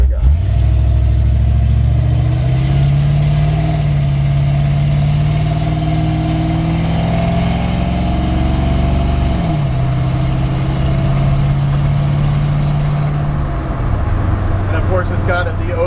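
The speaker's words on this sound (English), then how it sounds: "fuel injected V8 overdrive transmission. You can just hear this thing." A 1954 Ford F100 truck's fuel-injected V8 idles with a deep, steady rumble, briefly rising and falling in pitch as it revs, loud and close throughout.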